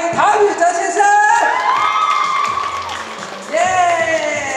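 Crowd cheering, whooping and clapping loudly as a drama's male lead arrives at a Taiwanese TV series press event, with a presenter's amplified voice speaking over the noise throughout.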